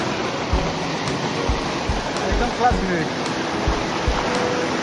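Water rushes steadily at Devkund waterfall, a continuous broadband roar close by, with people talking over it throughout.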